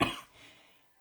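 A single sharp cough from a woman with a sore throat, close and loud, fading quickly into a faint trailing breath.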